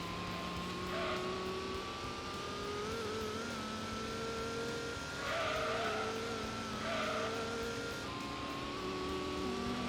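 Race cars in the Gran Turismo video game, GT Mode US vs. Japan race, steady engine drone with rising revs and tyre squeal, with several engines layered together.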